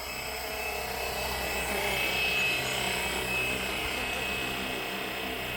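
Flywing Bell 206 RC helicopter flies past outdoors near trees, a steady high-pitched rotor and motor whine holding fairly even, swelling slightly mid-pass, with no talk.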